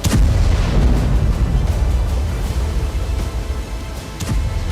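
Bomb blast from an Israeli strike on Hamas positions: a loud, sustained low rumble of explosion and fire with a sharp burst at the start and another crack near the end, no voices.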